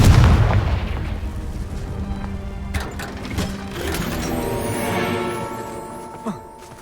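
Confringo fire spell explosions in Hogwarts Legacy: a heavy, booming blast opens, followed by rumbling impacts and crackling bursts over a layered game soundscape.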